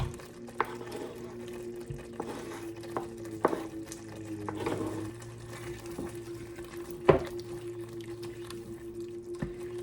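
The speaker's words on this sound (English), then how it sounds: "now that the sauce has reduced a bit, I'm going to add the parsley." A spoon stirs chopped parsley into a reduced clam spaghetti sauce in a pan, with soft wet squishing, light sizzling and a few clicks and knocks against the pan, close and quiet.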